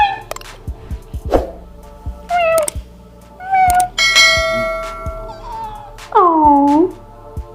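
A cat meows several times at close range, with drawn-out, rising and falling cries separated by short pauses, plus scattered clinks and taps in between.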